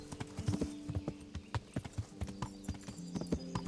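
Horse hooves clip-clop in a steady, fast rhythm while riding in Kingdom Come: Deliverance, loud and close, with a brief whinny-like tone; no talk over them.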